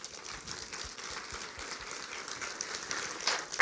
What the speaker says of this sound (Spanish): vamos a darle un aplauso a estos hombres